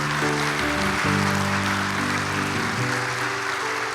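A church congregation claps in thanks during a Sunday service, the applause steady and continuous throughout, heard under sustained organ or keyboard chords.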